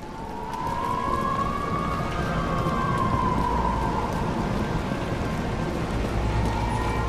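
A police car siren in the game Nobody Wants to Die, one long rising and falling wail heard at a distance over a constant wash of rain.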